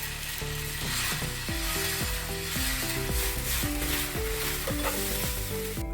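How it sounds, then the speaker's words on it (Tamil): Dosa roast batter poured from a cup onto a hot pan sizzles steadily and loudly, a dense continuous hiss with faint scraping or clinking underneath, no voices. "இப்போ நான் கப்பிலே ஊற்ற போகிறேன்."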